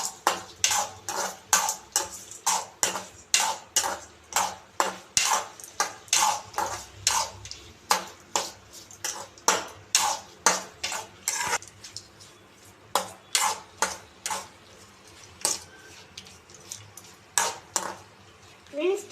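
Onions and tomatoes being sautéed in a pan for chutney, with a rapid, steady series of clinking spatula scrapes and metal taps against the pan over a faint sizzle, close and continuous for about twenty seconds.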